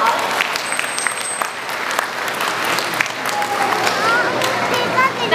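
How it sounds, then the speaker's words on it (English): Spectators at a zoo dolphin show applaud warmly, a lively wash of clapping from a large crowd with scattered voices and a few high whistles over it. "So let's give Simo a nice round of applause."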